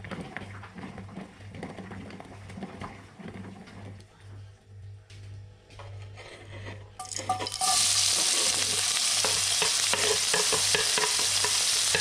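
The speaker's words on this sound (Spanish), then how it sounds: "vamos a poner el morrón, la cebolla y vamos a dejar que se cocine" Bell pepper and onion cooking in a pan on a farm in Mendoza, Argentina, with stirring and clatter at first, then a loud steady sizzle that rises suddenly and fills the rest of the clip, alongside a low background hum.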